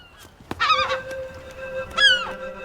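Two short bursts of harsh, honking bird calls, the first around half a second in and the second near two seconds, fairly close with no talking.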